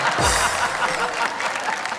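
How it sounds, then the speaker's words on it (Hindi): Audience applause at a Hindi poetry show, a dense wash of clapping from a crowd that stays steady and full throughout, with faint voices mixed in. "बज गई तालियां"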